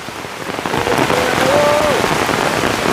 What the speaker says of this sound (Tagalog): inabot na kami ng ulan